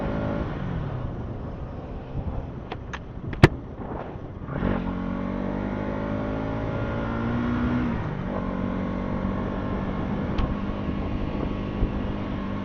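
A motorbike pulls away along a dusty road, its engine a steady, fairly close drone with a few sharp knocks early on and a surge of revving partway through before it carries on.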